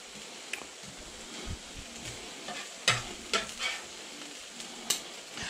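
Small pieces of ham tossed into a pan of frying bacon for a scrambled-egg breakfast. A quiet, low sizzle sits under scattered clinks and scrapes of stirring, with no talking.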